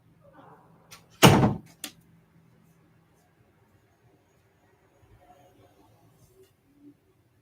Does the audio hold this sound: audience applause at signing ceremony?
no